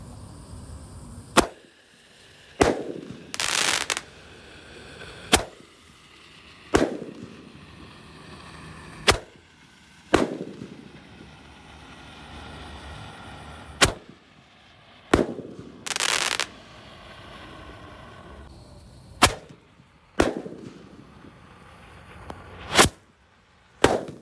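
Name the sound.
Roman candle fireworks, 128 shots, being lit and firing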